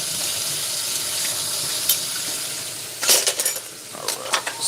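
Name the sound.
water running to rinse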